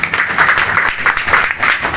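An audience at an old-age home event applauds for Chaurasia madam, a dense, steady round of many hands clapping that runs continuously and close by, with no voices over it.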